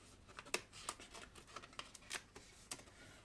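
Cardboard dollhouse roof tiles being cut out, a quiet close series of short snips and crisp rustles at an irregular pace, with no voices.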